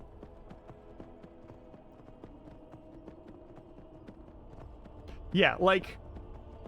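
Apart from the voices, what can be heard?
horse galloping in the video game Skyrim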